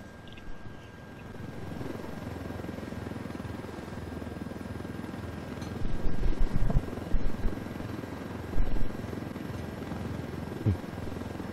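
A helicopter in the video game Ghost Recon Wildlands flies with a steady, loud rotor drone throughout, with a few heavier thumps partway through and no talk.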